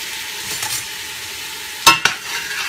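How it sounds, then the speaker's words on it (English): Vegetables cook down in a pot for seafood gumbo under a soft, steady sizzle, with a spoon stirring and two sharp scraping knocks near the end. "Give it a nice stir."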